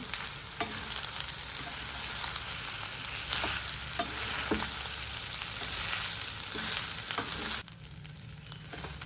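Cooked rice is stir-fried in a pan with paneer curry for fried rice, giving a steady sizzling hiss with scattered clicks and scrapes of stirring, moderately close, dropping quieter near the end, no talk.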